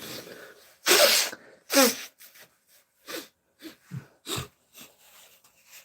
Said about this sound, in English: blow my nose